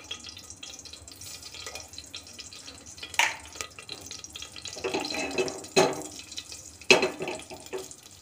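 Cumin seeds crackle and sizzle in hot oil in a pressure cooker, a soft steady frying hiss punctuated by a few sharper pops and stirring scrapes.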